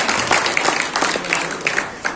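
Audience applause at a Samajwadi Party workers' gathering in Kiratpur, a brief burst of steady, dense clapping from a crowd welcoming a guest, with a few sharper individual claps standing out.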